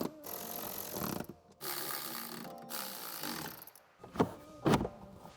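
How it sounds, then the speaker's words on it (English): A ratchet reinstalls 10mm bolts on a 2024 Tesla Model 3 during a coilover suspension install: bursts of quick ratcheting clicks with short pauses, then two sharper knocks near the end, fairly quiet and close. "we can proceed to reinstall the 10mm bolts"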